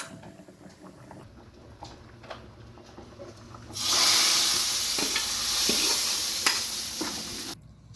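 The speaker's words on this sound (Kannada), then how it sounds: "ಸಾಸಿವೆ, ಉದ್ದಿನಕಾಳು ಮತ್ತು ಒಂದು ಮೆಣಸನ್ನು ಕಟ್ ಮಾಡಿ ಒಗ್ಗರಣೆಗೆ ಹಾಕಿದ್ದೇನೆ" A tempering of mustard seeds, urad dal and a cut chilli sizzles for an ivy gourd saaru: soft stirring clinks come first, then a sudden loud, close hissing sizzle bursts in and runs on before cutting off abruptly.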